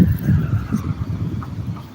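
A car rolling past on a busy town road, a low, rumbling tyre and engine swell that fades over two seconds, close and steady.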